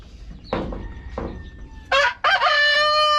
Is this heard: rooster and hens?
yes